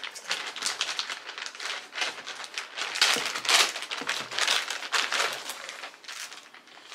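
Plastic crinkles and rustles continuously up close, a dense run of crackly bursts as the bag is handled.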